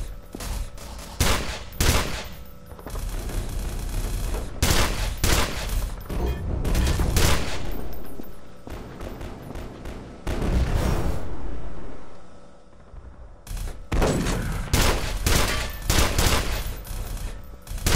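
Gunfire in the video game E.Y.E Divine Cybermancy: repeated loud bursts and volleys of shots in clusters with short lulls between them.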